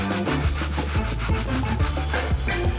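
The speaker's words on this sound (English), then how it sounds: "First, we need to sand these jars properly." Glass jars being sanded by hand, a close, rhythmic rasping scrub repeated in quick strokes at a steady pace, with no voices.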